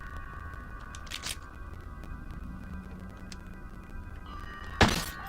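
One short sharp shot from a small gun in a video game, a faint crack near the end of a quiet stretch with low hum and a few soft clicks.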